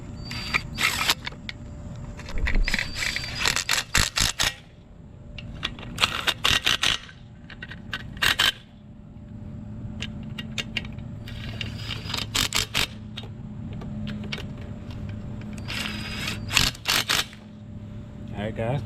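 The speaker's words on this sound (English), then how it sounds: "We can run them the rest of the way in with the gun." Impact gun running bolts into a Honda TRX500 ATV engine during assembly, several short bursts of whirring and rattling hammering spread through the stretch, with workshop handling noises between.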